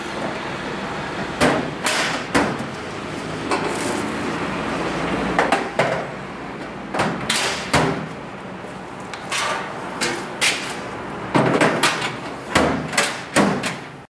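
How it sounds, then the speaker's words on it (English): Metal tool storage drawers slid into a cabinet during assembly, giving a series of sharp clunks, thuds and knocks in irregular bursts, fairly close and loud, with quieter rattling between them. "Install your drawers"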